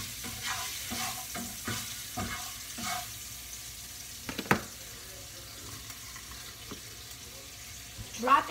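Food sizzling and frying in a pan, faint and close, with scraping stir strokes, a sharper clatter midway and more sizzle and scraping toward the end.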